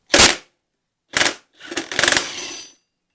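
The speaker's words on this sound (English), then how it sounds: "sorry, it's an impact gun, so let's do it" Three short, loud bursts of an impact wrench hammering bolts loose on a Harley-Davidson Sportster motorcycle, the last one longer and rattling, separated by brief silences.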